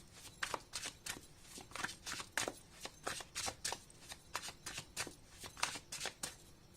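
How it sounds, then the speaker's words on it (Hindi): Tarot cards are drawn one by one and laid into piles, giving soft, quick papery slaps and flicks in an irregular rhythm, close and quiet with no talking. "तो एक एक कार्ड मैं निकाल कर रखूंगी"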